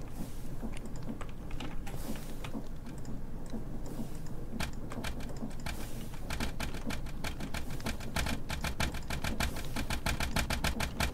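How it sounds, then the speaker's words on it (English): Modded engines in Minecraft starting up and running, a rapid mechanical ticking and chugging that builds as more engines begin firing, becoming a dense, regular clatter over a low rumble, with no talk. "I should turn on the engines"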